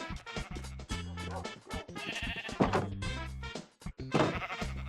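Repeated sheep bleats from the Minecraft video game, several loud calls in quick succession with some overlapping, close and clear, with game sounds between them and no one talking.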